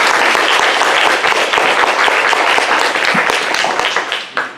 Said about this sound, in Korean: 더 열심히 하시라고 한번 좀 박수로 좀 격려해 주셨으면 좋겠습니다